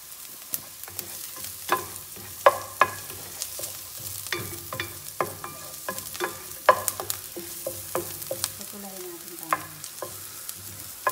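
Onion and garlic sautéing in a pan for chop suey, a soft steady sizzle broken by frequent close scrapes and clinks of a spatula stirring, no voices.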